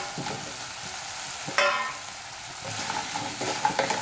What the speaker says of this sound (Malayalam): ഇനി നമുക്ക് ഇതിലേക്ക് ഫ്രൈ ചെയ്ത് വെച്ച പനീർ പീസസില്ലേ ചേർത്ത് കൊടുക്കാം